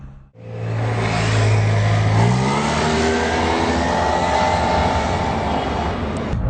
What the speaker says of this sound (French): on apprécie bien la réactivité du moteur